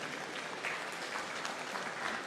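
Dense, steady applause from a large audience at a gathering of African leaders in Accra, many hands clapping together at an even level throughout.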